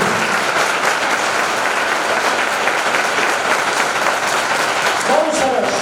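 An audience applauds during a Swaminarayan temple youth camp session in Halvad, with loud, dense, continuous clapping that holds steady for several seconds.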